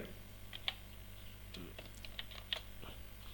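Keys tapped on a computer keyboard while entering a username and password for an online course login, a few faint, scattered clicks over a quiet room hum.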